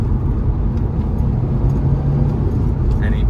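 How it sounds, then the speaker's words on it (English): Loud, steady engine and road noise from inside a 2012 Subaru WRX STI 2.5L with a six-speed manual gearbox, driven while shifting through the gears. "Even as we speak now, I'm just changing up and down the gears,"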